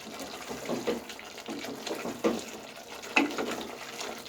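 Water is poured into a pot of spiced meat (gosht) in a home kitchen, giving a soft, uneven splashing with a few brief louder gurgles, close by.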